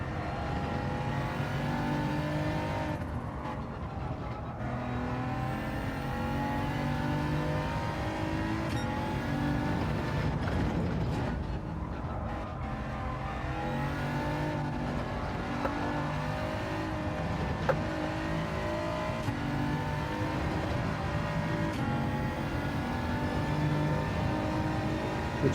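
McLaren race car engine in a racing video game, a continuous high-revving drone that rises and falls through gear changes over the whole lap, loud and close.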